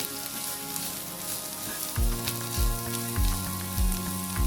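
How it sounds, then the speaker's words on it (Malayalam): Masala with turmeric and chili powder sautéing in a pan gives a steady close sizzle, with a few scraping stirs and low thumps in the second half. "ഇതൊന്ന് നന്നായിട്ട് വഴറ്റിയെടുത്തിട്ട്"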